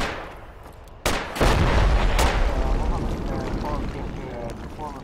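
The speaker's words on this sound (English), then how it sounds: "Where did that AR shoot from anyway?" Assault rifle fire in Project Reality, a sharp nearby crack followed by a loud booming burst and a long rolling echo that trails off under battlefield noise.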